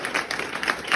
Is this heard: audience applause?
yes